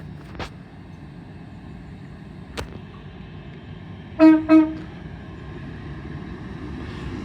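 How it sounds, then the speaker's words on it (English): An LNER Azuma train departing Grantham on the East Coast Main Line for York sounds two short horn tones in quick succession, moderately distant, over a quiet station hum with a couple of sharp clicks. "Nice two-tone from the driver there of the York service."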